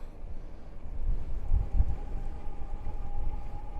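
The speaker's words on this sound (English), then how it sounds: "that wind is a blowing" Wind buffets the microphone outdoors during a Juiced Bikes Scorpion e-bike ride, making low rumbling gusts that swell in the middle, along with a faint steady tone.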